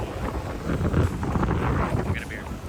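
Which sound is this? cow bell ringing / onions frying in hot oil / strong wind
strong wind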